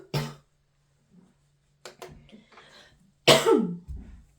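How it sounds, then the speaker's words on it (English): A single person coughs twice with a throat-clearing rasp in between, close and clear in a quiet room at a nail salon, with short pauses of silence between the bursts. "Excuse me, I have to cough."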